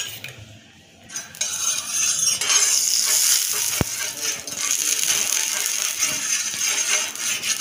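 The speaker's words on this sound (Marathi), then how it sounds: "तवा गरम झालेला आहे, त्याच्यावर तेल टाकते मी आता." Oil sizzles on a hot griddle for ridge gourd thalipeeth, a loud, steady frying hiss that rises after a quiet start and holds throughout, with one sharp click partway through.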